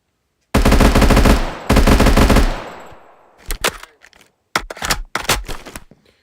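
Rapid automatic gunfire from a modded firearm in Minecraft Bedrock Edition: two loud sustained bursts, then a fading tail and several shorter, sharper bursts with gaps, heard alone without talk.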